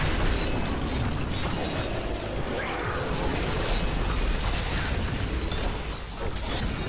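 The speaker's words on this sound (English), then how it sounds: "Explode some more corpses" A Necromancer detonates corpses in Diablo 3, a dense, continuous din of bursting pops and rumbling booms layered over clattering game effects, loud and sustained throughout.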